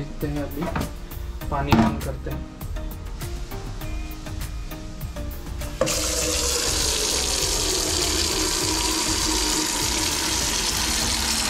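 Water gushes into a 15 litre bucket from a tap, a loud, steady rushing stream that starts abruptly midway after a few knocks and clatters of handling.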